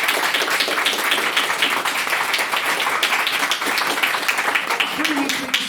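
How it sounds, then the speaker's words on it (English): Audience clapping after a maiden speech at a formal debate, a dense, fairly loud patter of hands continuing steadily from start to finish. "can we please have another round of applause for what was Ms."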